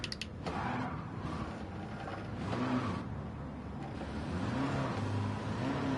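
A Gran Turismo 7 race car's engine revs hard while driving in reverse, a steady mid-pitched drone whose tone climbs and falls in repeated surges, loud and continuous throughout.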